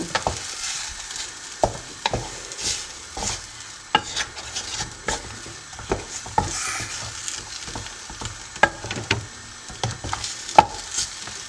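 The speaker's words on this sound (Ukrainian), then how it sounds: "Ось так я заварюю і постійно при цьому помішую." Choux pastry dough stirred constantly in a saucepan on the stove, irregular close knocks and scrapes of the spoon against the pot over a faint background hiss.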